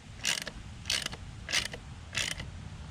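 A bolt is tightened on Willy G Harley-Davidson parts with four evenly spaced ratcheting bursts from a hand wrench. The clicks are close and fairly loud, and no one speaks.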